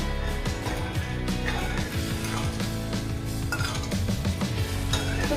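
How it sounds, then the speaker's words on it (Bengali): Metal kadai set onto a gas stove with clinking and clanking of cookware, steady kitchen clatter throughout without talk. "এদিকে আমি কড়াই বসিয়ে দিয়েছি গাইস।"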